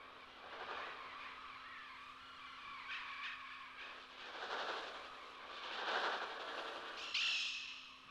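A dense mass of shrill, screeching bird cries from a swarm in the 1963 film The Birds swells and fades in waves, harsh and unrelenting, with no voices.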